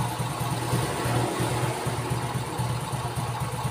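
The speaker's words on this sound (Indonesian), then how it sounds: "Coba tak setel langsam yang paling rendah standarnya motor ini." A Honda Astrea Grand motorcycle engine idles at its lowest setting, a steady low putter with an even pulsing rhythm, close and continuous with no talk.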